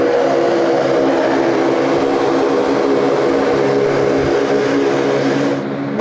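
Aircraft engine noise at Sydney Airport, a loud continuous roar with steady droning tones that holds throughout and dips slightly at the end.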